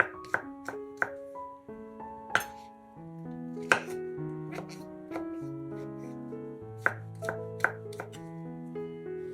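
A knife chops mushrooms into cubes steadily on a cutting board, sharp irregular taps close up, with faint background music underneath.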